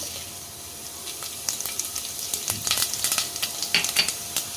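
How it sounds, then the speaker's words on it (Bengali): Cumin seeds and dried red chillies are tempered in hot oil inside a pressure cooker. A faint sizzle and crackle builds from near quiet into a run of sharp pops and spits over the last few seconds. "তেল গরম হয়ে গেলে আমি তার মধ্যে দেব জিরে আর শুকনো লঙ্কার ফোড়ন"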